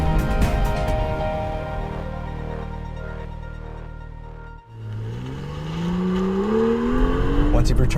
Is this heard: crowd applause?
no